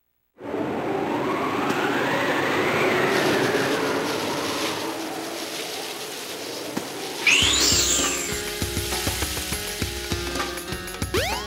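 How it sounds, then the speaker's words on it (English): A train departs from a station in the video game Sonic Adventure. A steady mechanical rumble builds and holds, then a sharp clank leads into rattling, ratchet-like clatter as it moves off. "The train headed for Station Square will be departing soon."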